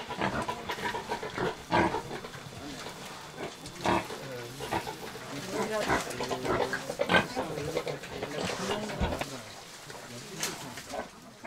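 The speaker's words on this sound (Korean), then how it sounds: "성장 속도가 빠른 돼지는 이 마을의 중요한 수입원입니다." Pigs on a farm in a remote mountain village in Africa, with repeated grunts and short squeals close by, and a narrator's voice talking over them.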